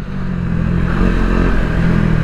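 A KTM Duke 250 motorcycle is ridden with its engine droning loud and close, holding a steady low rumble that swells slightly as it pulls, under a constant wind rush and without any voices.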